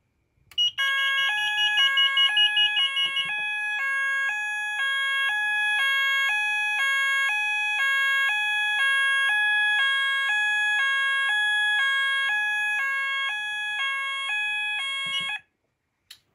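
An optical smoke detector under test on a fire alarm demo board sets off an alarm sounder: a loud, steady two-tone warbling tone that alternates rhythmically for about fifteen seconds and then cuts off abruptly, with no talking over it.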